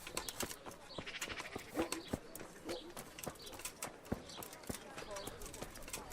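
Horse hooves clip-clop in the medieval video game Kingdom Come: Deliverance, a steady run of crisp hoofbeats over soft ambient game sounds.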